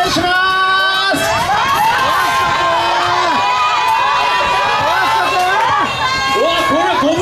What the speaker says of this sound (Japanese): じゃあぜひまずは皆さんの声援聞きましょうか